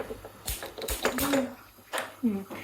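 Gas burners on a home kitchen stove are switched on, one after another, while breakfast is being prepared. Several sharp clicks and metallic clatters come through close by, with a person talking over them.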